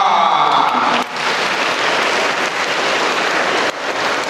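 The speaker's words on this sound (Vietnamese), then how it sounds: "thật là một tràng pháo tay thật to" A big round of applause from a church congregation during a Sunday homily: dense, steady clapping that stays loud throughout with a brief dip near the one-second mark and a hint of a voice at the start.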